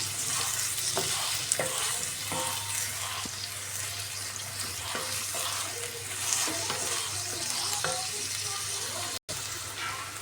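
Chopped onions fry in a pan for an onion egg curry, a steady broadband sizzle running throughout with scattered scraping stirs of a spoon, close and fairly constant.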